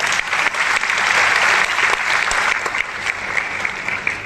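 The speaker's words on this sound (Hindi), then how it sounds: "बजा लो तालियां" Audience applause at a gathering, a dense burst of many hands clapping that stays loud and steady, then thins slightly toward the end, with no talk over it.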